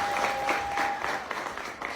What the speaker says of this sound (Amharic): እስኪ ጭብጨባ